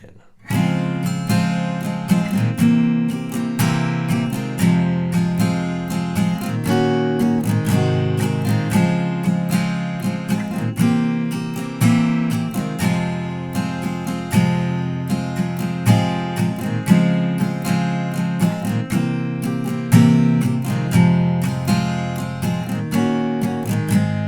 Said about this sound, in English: And altogether, the main progression, which you can use for the verse and the chorus, will sound like this.